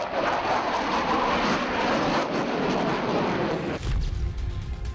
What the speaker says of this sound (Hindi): रफाल यानी वो लड़ाकू विमान जिसकी गर्जना से ही दुश्मन के पसीने छूट जाते हैं